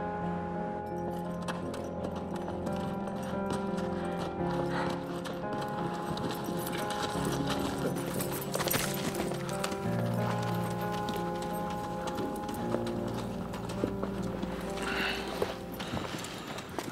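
A ridden horse's hooves clip-clop at a steady walking pace, moderately close, alongside music and ambient sound.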